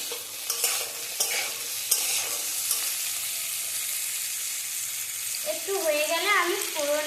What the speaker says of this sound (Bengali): আর শুকনো করে ভেজে নেব পটলটাকে একদম ভালো করে ভেজে নেব